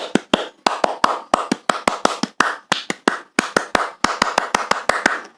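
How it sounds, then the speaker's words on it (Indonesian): Sharp, rhythmic Indonesian Scout (Pramuka) hand claps in quick patterned bursts, close and crisp, repeating a set clapping sequence with short pauses between groups. "kita tepuk pramuka dulu yuk"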